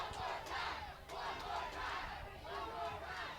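A live wrestling crowd at an outdoor Freedom Fest show on a town square in Jefferson chants in rhythmic swells, three or four loud rising pulses of massed voices at moderate distance.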